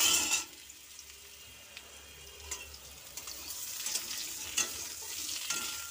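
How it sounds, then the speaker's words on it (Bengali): Diced potato and papaya stir-fry in hot oil with bay leaf, dried red chilli and panch phoron, giving a steady soft sizzle with occasional scrapes and stirring clatter. "আলু পেঁপেটা দিয়ে ভালো করে ভেজে নেব"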